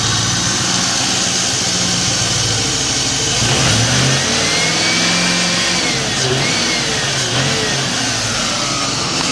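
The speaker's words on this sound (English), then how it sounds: "Let's give it a little rev." A 1996 Ford Mustang GT V8, due for an oil change and fitted with a new water pump, idles loudly and then revs up sharply around the midpoint before settling back, with its engine note close and steady throughout.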